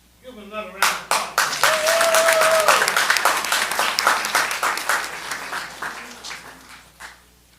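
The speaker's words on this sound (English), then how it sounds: "Give him another round of applause." Round of applause at a College Park city council meeting: a room of people clapping, swelling quickly and then fading out, with a few voices and a brief tone heard faintly beneath.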